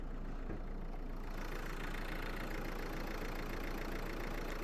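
The 1.5 diesel engine of a 2018 Renault Megane 4 with 165,000 km runs at idle, a constant close and even clatter and rumble with no voices.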